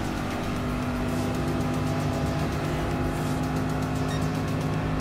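Race cars lapping Sardegna Road Track in the video game Gran Turismo Sport, a steady, loud engine drone with sustained tonal whine and no breaks, as if heard from close in the car throughout.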